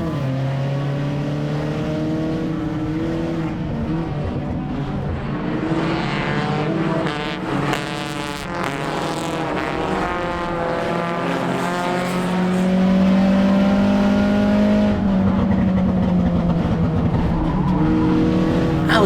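Enduro race cars launch together from a dead stop like a drag race, engines roaring loud and continuous with rising revs and a swell of power near the end, no talk over it.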